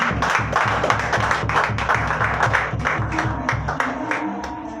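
A church congregation claps in worship, dense rhythmic clapping filling the room steadily throughout, with a low musical and vocal bed underneath.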